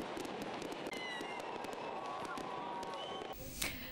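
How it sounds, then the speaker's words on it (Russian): Fireworks at a governor's graduation ball in Sochi crackle and pop continuously at a distance, with scattered sharp bursts over a dense background rumble. "А кульминацией губернаторского бала стал салют в честь бывших школьников."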